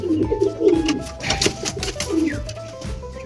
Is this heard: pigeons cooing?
yes